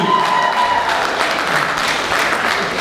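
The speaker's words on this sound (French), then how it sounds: "d'applaudissements s'il vous plaît, une fois de plus pour ce charmant couple" Wedding guests applaud the newly married couple with sustained, dense clapping from a crowd, loud and even throughout.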